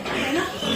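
Pigs grunt and squeal briefly at a pig sale, a short loud burst of squealing close by mixed with a voice.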